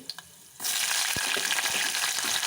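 Mustard seeds, cumin, peanuts and chana dal frying in hot oil, beginning with a few small taps before a loud, steady sizzle bursts in and continues close up with occasional crackles.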